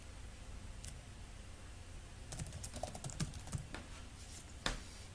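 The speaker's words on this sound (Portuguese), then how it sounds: "Eu vou pedir o atalho Ctrl L e vou digitar aqui contrapiso." Someone types on a computer keyboard in a faint, quiet room, with scattered key clicks that come in a short burst of taps after a pause.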